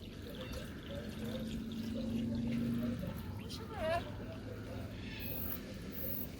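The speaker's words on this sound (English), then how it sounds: "I'll just pour slowly, and anything heavy should hopefully just sit to the bottom of the bucket" Liquid poured slowly into a bucket during gold recovery from IC chips, a low steady watery pour with occasional splashes, heard under nearby talk and background noise.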